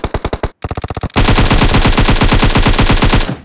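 Rapid bursts of automatic gunfire from a PUBG Mobile firefight played on an iPad Mini 5: a few short volleys, a brief pause, then a long sustained stream of loud, close shots.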